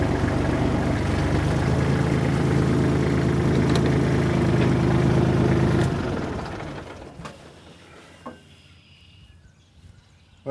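A vehicle pulling a trailer on a newly built receiver hitch rumbles steadily nearby, then its engine noise fades away over a few seconds as it drives off, leaving quieter background with a few clicks.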